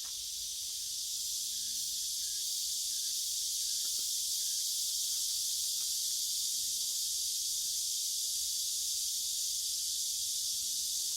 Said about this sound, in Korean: 매미소리와 함께하는 아침.